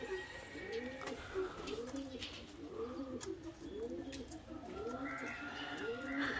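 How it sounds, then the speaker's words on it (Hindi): Cooing of an unusual pigeon breed at a bird farm, a steady series of about five soft, rounded coos repeating every second or so, with faint chirps of other birds in the background. "यहाँ पे एक अजीब नस्ल के कोई कबूतर है"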